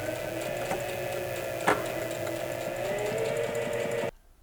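A sewing machine stitches a seam on a dish towel in one steady mechanical run of about four seconds, close and clear, then stops abruptly.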